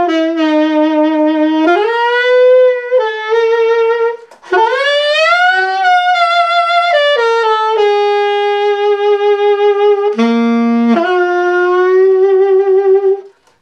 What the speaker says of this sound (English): It's a very long bend followed by some vibrato.